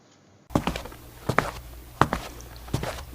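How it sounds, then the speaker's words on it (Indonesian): Footsteps sound effect in a children's Bible story: a handful of heavy, spaced thudding steps, close and fairly loud, starting after a brief silence and with no talk over them. "Sepertinya itu bunyi langkah kaki Tuhan."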